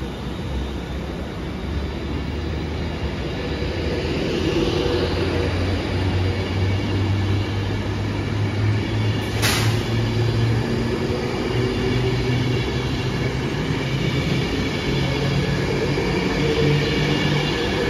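A severely delayed West Coast Main Line passenger service to Manchester Piccadilly rumbles past steadily and fairly close for the whole stretch, with constant rail noise and a low drone and no talking.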